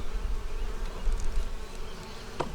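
Honey bees buzzing around an open beehive as frames are lifted out, a soft continuous close drone with faint individual buzzes passing near.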